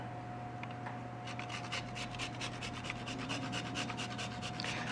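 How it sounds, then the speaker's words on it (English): Nutmeg grated over the top of a quiche Lorraine, a steady run of short rasping scrapes that start about a second in and repeat close and clear, with no talking. "grate a little bit of nutmeg over the top"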